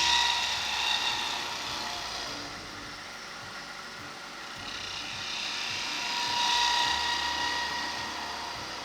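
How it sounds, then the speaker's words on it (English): A sharp spindle gouge cuts into a spinning wooden top blank on a wood lathe, giving a continuous whirring, scraping hiss that swells and fades as the tool moves across the wood. "So I'm using a nice sharp spindle gouge."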